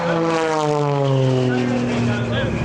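A propeller aerobatic airplane performing at the EAA AirVenture airshow, its engine roaring loud and steady with a droning tone that slowly falls in pitch, while an announcer talks over it.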